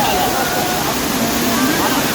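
Rushing water at Pulicharam waterfall in Kerala, a steady loud broadband roar filling the whole scene, with faint voices murmuring underneath.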